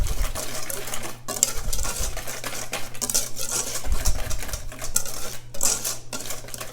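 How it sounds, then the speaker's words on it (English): A whisk beating cornstarch and salt together in a bowl for pastry cream, making a continuous rapid scraping and clinking rattle close by, with a brief pause partway through. "you're going to whisk those 2 things together just to remove any lumps"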